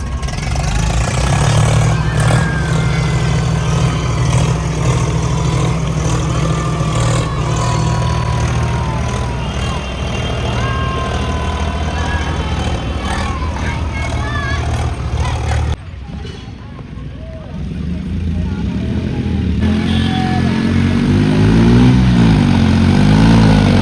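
A John Deere tractor engine drones loud and continuous while driving, ready to tow another vehicle through mud and water, with a brief dip in the noise partway through before it rises again.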